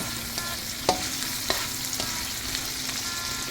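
Eggs and onions for Cajun-style Asian fried rice frying steadily in a hot pan, with a constant close sizzle broken by a few sharp scrapes and taps of a utensil as they are stirred.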